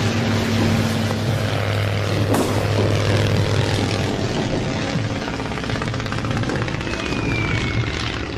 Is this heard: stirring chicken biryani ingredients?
no